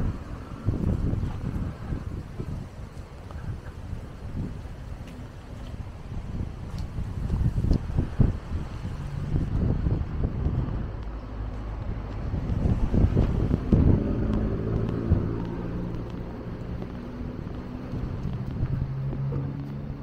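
Strong wind buffets the microphone steadily throughout on a breezy seaside walk near the beach promenade in Maspalomas, Gran Canaria, a loud continuous rumbling roar with gusty swells and no talking.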